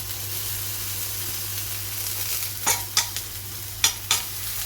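Grated ginger and bay leaves frying in oil in a pan give a steady close sizzle, with a few sharp scraping clinks from the stirring spoon near the end.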